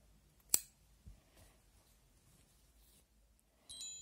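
Scissors snip through yarn during amigurumi crochet work, a single sharp close cut followed by faint handling noises in a quiet room.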